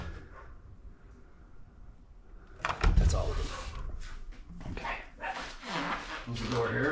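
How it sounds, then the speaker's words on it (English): A pet dog barks indoors at a house, sharp loud bursts starting about three seconds in and continuing intermittently amid household clatter, close to the microphone. "Close the door here so my dog doesn't ruin the shot by barking his head off."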